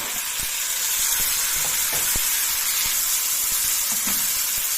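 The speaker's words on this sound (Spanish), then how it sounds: "Vamos a dejar que nuestros pimientos se cocinen un poquito." Steady, close sizzling of peppers frying in a pan, a constant hiss with small pops and crackles scattered throughout.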